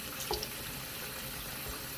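Chicken liver rinsed under a running kitchen tap, a steady close stream of water splashing into a sink, continuous and alone without speech.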